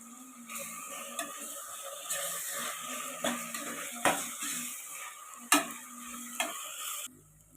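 Tomatoes with a little mint sautéing in a pan for mutton biryani: steady close sizzle and frying hiss, with a spoon repeatedly stirring and scraping the pan in irregular knocks.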